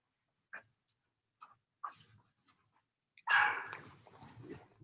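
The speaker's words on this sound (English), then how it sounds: "If you heard the dog bark, that was my dog." A pet dog gives a few short, separate barks at moderate distance, spaced out over a quiet room, followed by a louder burst of barking or whimpering sound near the end.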